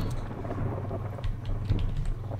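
Thunderstorm ambience in the game Against the Storm: a dull, sustained low rumble with light rain texture and a few soft swells, steady throughout and without speech.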